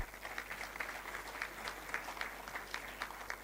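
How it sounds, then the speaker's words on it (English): Steady applause from a large graduation ceremony audience, a continuous patter of many hands heard from a distance at low level, with no talk over it. "please clap"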